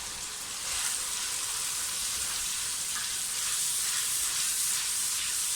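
Ground onion paste goes into a hot pan with green chilli paste for a whole green moong dal dish, and a loud, steady frying hiss fills the whole stretch with no talk.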